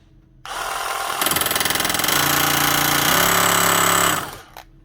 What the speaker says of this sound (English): That does make a noise, but it's not actually hammering correctly.